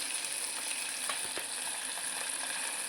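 Liver fries in a pan with a loud, dense, continuous sizzle, close up, broken only by a few faint pops and clicks.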